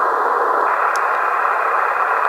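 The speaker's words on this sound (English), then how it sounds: "So the lower sideband here, the tone sounds quite low" A radio receiver tuned to lower sideband gives a steady low tone over a bed of hiss, constant and fairly loud throughout.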